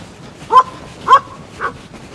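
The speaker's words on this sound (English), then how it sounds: "Puppies are barking at the neighbor dogs." Puppies bark three times at neighbouring dogs, short sharp yips spaced about half a second apart, fairly close and loud over a quiet outdoor background.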